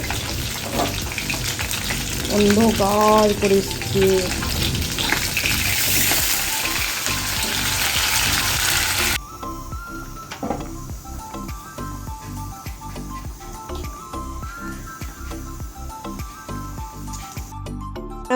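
Rain falls outside a home as a steady, wash-like hiss that fills the first half and then turns thinner and more broken, with a person speaking briefly over it.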